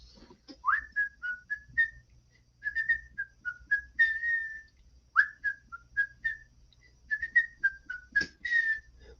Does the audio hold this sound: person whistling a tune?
yes